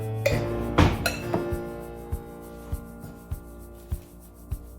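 A wild weed salad with a little rosemary is tossed in a bowl, with light clinks and scraping rubs of utensils against the dish, a few closely spaced at first and then a slow regular series of soft taps.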